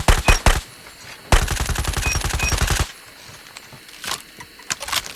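A gun in COD Mobile fires in close, loud bursts: a short opening volley, then a long sustained automatic stream, followed by quieter scattered shots.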